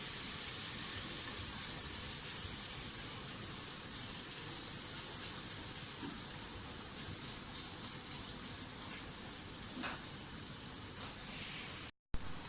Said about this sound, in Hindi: प्याज हल्का हल्का फ्राई होना शुरू हो गया है, पिंक होना शुरू हो गया है।